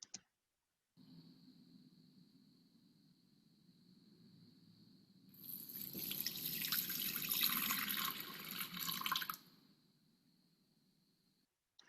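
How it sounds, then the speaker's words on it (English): Water poured from a vessel during an outdoor water ceremony, a faint steady trickle rising to a fuller splashing pour for several seconds before tapering off. "I dedicate this first pouring of water"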